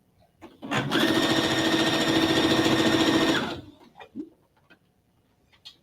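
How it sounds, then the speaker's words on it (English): A home sewing machine run by foot pedal stitches a straight seam on a quilt block. It makes a steady, loud, close whirring run of about three seconds, followed by a few soft clicks and handling noises. "we're just going to sew a straight line down it."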